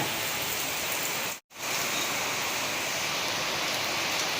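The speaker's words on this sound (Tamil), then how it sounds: "இங்கே பாருங்க மழை பெய்யுது சவுண்டு கேட்குதுங்களா" Heavy rain pours down during a storm in Chennai, a dense, steady hiss of drops on surfaces, loud and close, cut by a brief moment of silence before resuming.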